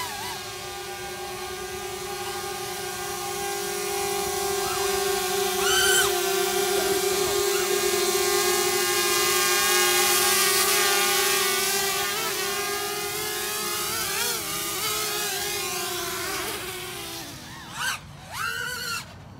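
A DJI Mavic Air drone flies nearby, its propellers giving a steady, loud, high-pitched buzzing whine with tonal harmonics that shift in pitch as it manoeuvres, sustained throughout with no talking.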